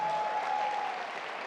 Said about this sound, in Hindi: सबके लिए जोर से ताली बजा दो यार